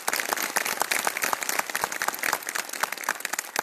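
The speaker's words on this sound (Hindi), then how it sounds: "अपने लिए एक बार जोरदार वाली ताली" An audience at a motivational seminar breaks into dense, steady applause, many hands clapping at once in a continuous close crackle without pause.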